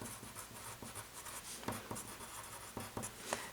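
Pen or pencil writing out a geometry proof on paper, continuous scratchy strokes with small taps, close and fairly quiet.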